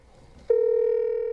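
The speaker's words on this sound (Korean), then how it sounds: "전화를 걸어봐도 신호음만 갈 뿐 받질 않는데요." An unanswered call produces a telephone ringback tone, a steady, clear, close electronic tone that starts abruptly and holds continuously after a brief quiet lead-in.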